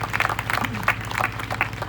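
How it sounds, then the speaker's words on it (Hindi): A church congregation claps for Jesus at a grand opening celebration service, giving steady, dense applause in a reverberant hall, with a low hum and murmuring voices underneath. "ताली तो बजा दो यीशु के लिए"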